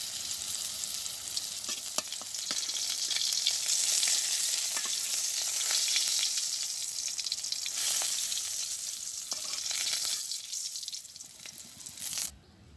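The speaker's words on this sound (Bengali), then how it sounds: "আমার পটল ভাজি হয়ে গেছে।" Pointed gourd pieces sizzle in a wok with steady frying crackle and occasional scraping stirs, loud and close, then fall quieter and stop near the end; no voices.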